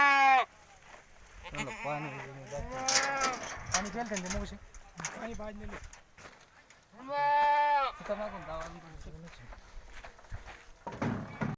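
Several goats bleat near and far at a goat sale, one long loud bleat standing out, with people talking and footsteps mixed in.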